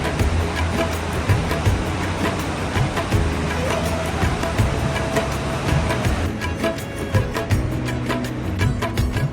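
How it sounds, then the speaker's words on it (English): The Dingboche River in the Nepal Himalaya rushes along nearby, making a loud, constant roar with scattered clicks and knocks on top and no voices. "We trek along and over the Dingboche River for most of the trek."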